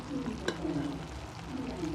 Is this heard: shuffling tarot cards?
no